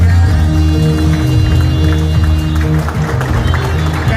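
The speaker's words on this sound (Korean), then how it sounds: "큰 박수 한번 부탁드리겠습니다" Applause from a large audience at the Gumi Chamber of Commerce 2022 New Year greeting ceremony, a dense, steady wash of clapping that holds loud and unbroken for the whole stretch.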